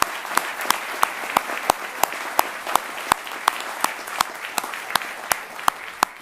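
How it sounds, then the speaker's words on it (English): Audience applause at a spring commencement ceremony, a continuous bed of clapping with a sharp, evenly spaced close clap standing out above it in a steady rhythm throughout. "could you guys please help me with a round of applause"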